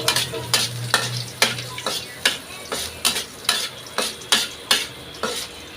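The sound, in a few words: garlic frying in hot cooking oil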